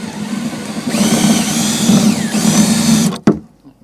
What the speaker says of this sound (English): We're just going to go ahead and drill this guy out.